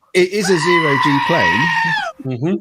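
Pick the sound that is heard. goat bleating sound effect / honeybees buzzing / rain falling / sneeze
goat bleating sound effect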